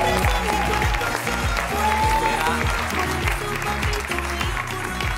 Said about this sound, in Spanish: Voy a pedir un fortísimo aplauso para su creadora, para Elena García Armada.